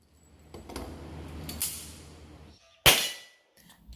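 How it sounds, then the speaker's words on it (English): A Rock Island Armory Pro Match .40 pistol fires on an outdoor range: one loud, sharp report near the end, preceded by quieter handling noise and followed by a second sharp onset at the very end. "Still good shooting there."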